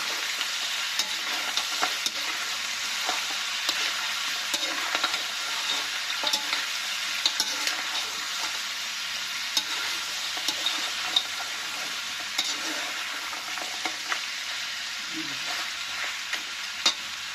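Pork and beef brown in a hot pan, a continuous close sizzle and frying crackle with occasional stirring scrapes, no talking over it.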